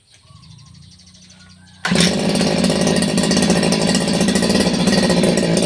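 A grass cutter's small two-stroke engine idles softly, then jumps to a loud, steady, buzzing high-revving run as the choke is lowered, staying close and constant to the end.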